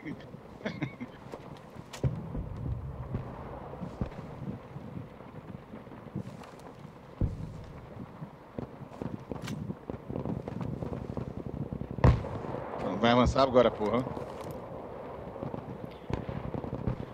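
Bursts of rapid gunfire in Battlefield V Firestorm crack and pop through the clip amid a noisy rumble, while people talk urgently over it.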